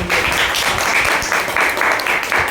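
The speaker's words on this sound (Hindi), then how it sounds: "एक और टाइम के लिए एक बार जोरदार ताली" Burst of applause from an audience at an informal talk on theatre arts, moderately loud clapping in uneven waves.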